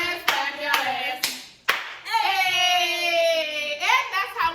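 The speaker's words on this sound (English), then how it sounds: "If you ratchet and you know it, clap your hands." Hands clapping in quick bursts at a lively, chant-like show, with loud cheering and whooping voices over the claps.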